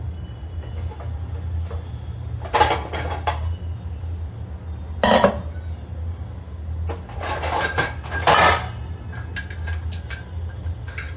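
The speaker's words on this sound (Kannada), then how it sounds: "ಆ ಗ್ಯಾಪಲ್ಲಿ ಸ್ವಲ್ಪ ಪಾತ್ರೆ ಎಲ್ಲ ಜೋಡಿಸ್ಕೊಂಡ್ಬಿಡ್ತೀನಿ" Washed dishes and pots being stacked in a home kitchen, with a few separate clattering bursts of metal vessels knocking together over a steady low background hum.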